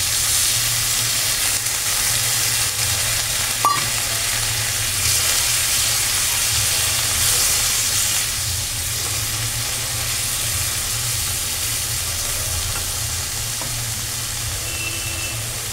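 Taro greens sizzle steadily in a pan after a light sprinkle of water, a dense, even frying hiss that holds throughout and eases slightly toward the end, with one brief clink early on.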